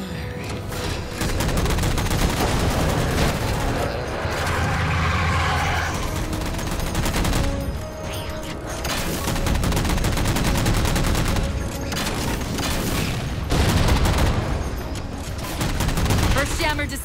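Dense, continuous gunfire and bursts of automatic weapon fire in the video game Halo 4, loud and sustained throughout, with brief dips and some in-game voices mixed in.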